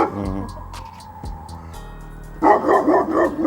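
A dog barks and yips in a neighborhood setting, a few sharp nearby barks early on, then a louder burst of rapid barking toward the end, with no talk over it.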